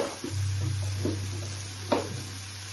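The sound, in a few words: paneer frying and stirred in pan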